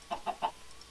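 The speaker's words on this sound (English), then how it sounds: "There's a chicken right there." Chicken in the game Minecraft giving three quick clucks in a short even series, clear and close against a quiet background.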